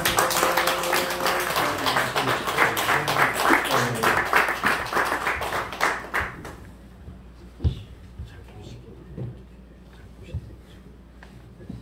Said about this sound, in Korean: 우리 할렐루야로 손을 들어서 크게 환영하고 박수로 환영했으면 좋겠습니다